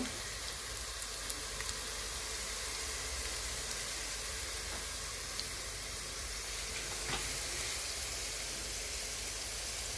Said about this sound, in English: until I get the browning of the onions that I want